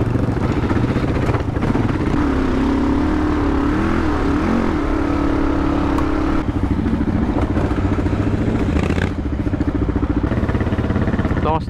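A Kawasaki KLR adventure motorcycle pushes along a muddy dirt track in misty mountains, its engine a steady loud drone with a rising and falling tone throughout, joined by rattling and clattering from the rough ground.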